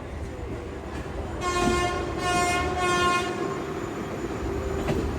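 The Saraighat Express passes at Guwahati with long, loud horn blasts layered over the rumble of rolling carriages, heard from a nearby train amid steady background noise.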